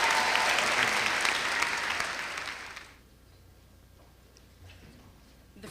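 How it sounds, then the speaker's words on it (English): Loud audience applause at a county awards day for student scholarship recipients fills the first three seconds, then cuts off abruptly, leaving a quiet room with a few faint knocks. "one more round of applause for all of our scholarship rates"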